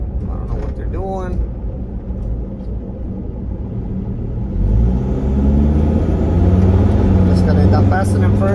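A 2006 Range Rover Sport HSE with a 4.4 V8 engine driving on a country road behind slow tractors, its steady low engine rumble and road noise swelling louder midway, with a brief voice early on.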